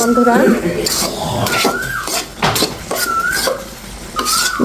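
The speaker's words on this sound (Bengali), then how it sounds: "এখন আমি নেড়ে ছেড়ে মিশিয়ে দিচ্ছি" Cabbage ghonto is stirred in a pan with a spoon, producing repeated scraping and clinking strokes of metal on the pan with a faint sizzle, while someone talks over it.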